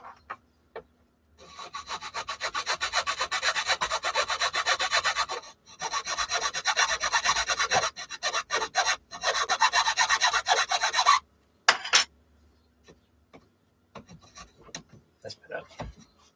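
Metal is filed by hand, with rapid back-and-forth rasping strokes in several long bursts separated by short pauses, then a few quieter, scattered scrapes toward the end.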